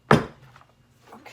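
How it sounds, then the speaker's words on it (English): A filled goat milk soap mold is tapped down once on a hard surface with a sharp, close thunk, followed by fainter knocks as it settles. "I'm gonna tap this down. This helps make sure there's no air bubbles in it."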